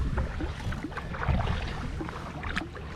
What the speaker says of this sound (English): Start paddling. I'm just gonna paddle until the bait is well behind me.